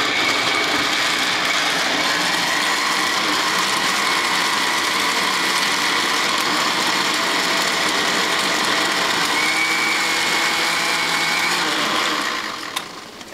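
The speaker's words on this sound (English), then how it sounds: "This is the Hamilton Beach mixer that has a high and a low. And what I'm just going to do is pulse it a couple times." A Hamilton Beach blender with high and low settings runs loud and steady while mixing a drink, a close, harsh motor whine with grinding, holding for several seconds before cutting off at the end; no talking.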